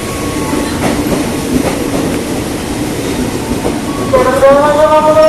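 A TM 6000 commuter electric train bound for Bogor rumbles loudly and steadily on the rails nearby, with rising tonal squeals of wheels or motors near the end.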